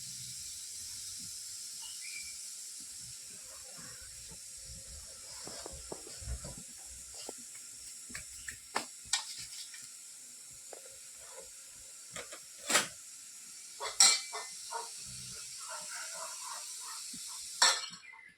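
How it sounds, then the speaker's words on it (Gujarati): Water coming to a boil in a pot for making lapsi, a steady faint hiss with soft bubbling and a few sharp clicks and pops, heard close with no voices. "હાલો મિત્રો હવે આંધણ થઈ ગયું છે"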